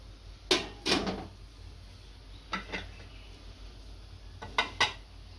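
A steel dish is set into a steamer for Surti locho batter, producing three pairs of light metallic clinks and knocks spaced a couple of seconds apart.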